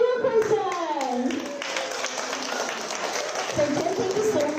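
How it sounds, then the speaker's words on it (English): Applause for a team at a high school STEAM challenge event, crowd clapping steady under a voice heard speaking at the start and again near the end. "let's give a round of applause to Team John Wilkerson."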